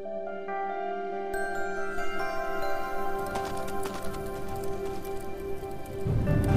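Steady rain patters in a rainy level of the video game Dust: An Elysian Tail, a constant hiss of drops with tonal game music layered over it, growing slightly denser near the end.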